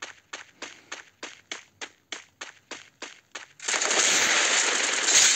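Rapid gunfire rings out in a Free Fire Clash Squad match, a steady run of about a dozen evenly spaced shots followed by a sustained loud burst of noise, with no talk.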